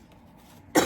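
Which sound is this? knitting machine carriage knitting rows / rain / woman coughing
woman coughing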